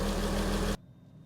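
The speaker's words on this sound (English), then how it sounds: "that engine sounds sweet as." An abandoned barn-find Porsche 986 Boxster S idles with a steady, close, loud mid-range engine hum that cuts off abruptly partway through, leaving near silence.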